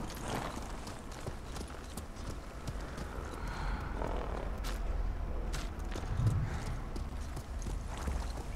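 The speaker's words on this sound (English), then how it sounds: "Horse! Get over here, horse." Horse hooves clip-clopping at a walking pace in the Ghost of Tsushima video game, moderately close and steady over a soft forest ambience.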